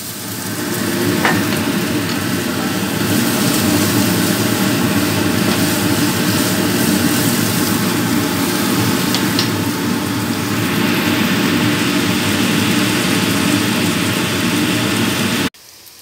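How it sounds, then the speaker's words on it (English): Kitchen exhaust fan running steadily and loud through the whole stretch, a constant broadband whoosh with low hum, while tofu (tokwa) fries beneath it with faint sizzling; it cuts off abruptly near the end. "because I have to open the exhaust fan, so it's a little bit noisy, okay?"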